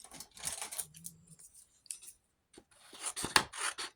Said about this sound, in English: A pair of scissors.